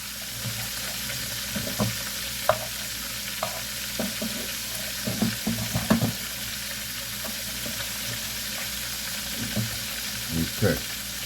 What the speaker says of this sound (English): I'm going to flip these eggs over as gently as I can.